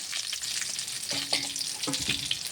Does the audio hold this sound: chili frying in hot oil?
yes